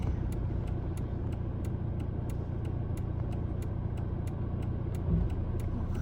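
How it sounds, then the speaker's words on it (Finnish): Road traffic rumbles steadily near a churchyard in Finland, a continuous car-engine drone with a slightly louder pass near the end. "Onhan se täälläkin liikennettä."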